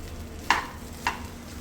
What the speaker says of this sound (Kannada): ಇವಾಗ ಇದೆಲ್ಲ ಮಿಕ್ಸ್ ಮಾಡ್ಕೊಳ್ಳೋಣ.